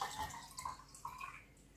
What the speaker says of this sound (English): So just fill that up with water.